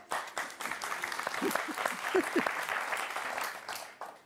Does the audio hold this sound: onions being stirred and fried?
no